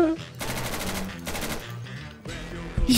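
Sustained automatic gunfire from the video game Insurgency, loud, close, dense rattling bursts filling nearly the whole stretch with only brief gaps, and a voice briefly heard near the start and end.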